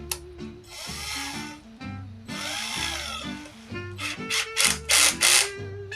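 A power drill whirring in repeated bursts, revving up and down with short pauses, the last few bursts louder and harsher as it bites in.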